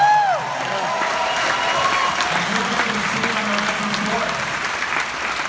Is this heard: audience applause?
yes